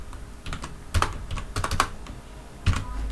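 Close, brisk keystrokes on a computer keyboard as Java code is typed, an uneven run of clicks with a few heavier key presses standing out.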